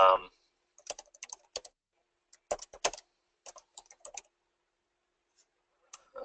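Fingers tap on a computer keyboard in short irregular bursts of crisp, close clicks separated by pauses, with brief speech at the very start and end.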